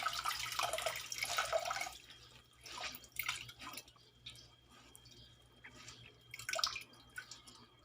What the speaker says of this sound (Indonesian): kita peras-peras biar airnya keluar